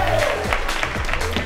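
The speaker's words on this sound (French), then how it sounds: "On peut les applaudir bien fort!" Applause at a lively bar or party gathering, a steady wash of clapping hands lasting the whole moment, with music and voices faintly underneath.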